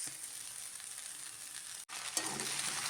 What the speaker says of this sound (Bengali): একে ভালো করে ফ্রাই করে নিতে হবে।